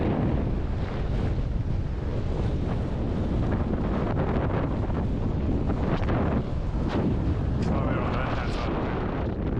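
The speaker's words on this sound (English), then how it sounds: "There's a stonking wind from our left-hand side." Strong Icelandic wind blowing from the left across a microphone during an Arctic bikepacking ride, a loud, constant roaring buffet with no letup.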